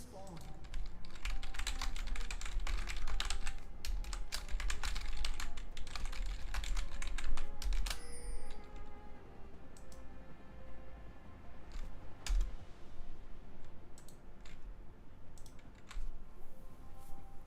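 Rapid computer keyboard typing during a League of Legends session, dense and close for the first eight seconds, then sparser scattered keystrokes; a voice talks over it.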